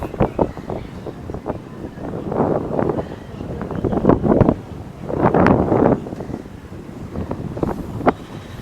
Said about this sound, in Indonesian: Anginnya keras banget.